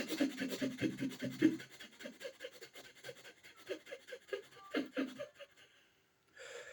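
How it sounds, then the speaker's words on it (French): Rapid holotropic breathing comes as fast, rhythmic, audible panting breaths in quick succession, close and moderately loud, slowing near the end before a brief pause. "il y a la respiration holotropique qui va vous faire respirer très vite"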